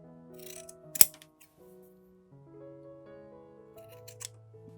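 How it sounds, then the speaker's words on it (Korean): Scissors snip once into a small piece of white felt, a single sharp crisp cut standing out close and clear over soft background music. "작게 잘라서 반을 접어준 후에 살짝 가위집을 내주세요"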